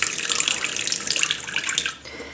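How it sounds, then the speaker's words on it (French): Lukewarm water poured into a small amount of baker's yeast, a bright continuous splashing stream, close and fairly loud, that stops abruptly near the end. "je vais verser juste un peu d'eau tiède."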